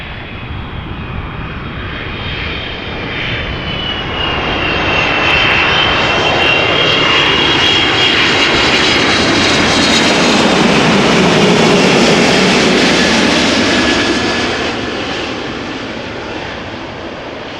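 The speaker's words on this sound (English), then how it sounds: "Right, Delta Airlines, flight 162. Airbus A330-300." Delta Airlines Airbus A330-300 landing at Amsterdam Schiphol, its engine roar swelling steadily as it approaches and passes close by, then slowly fading, with no voices.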